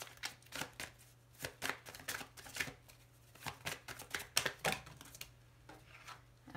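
Tarot cards handled and laid on a table during a reading, a quiet run of crisp slaps, flicks and shuffling clicks in an irregular rhythm, close and soft, with no talking.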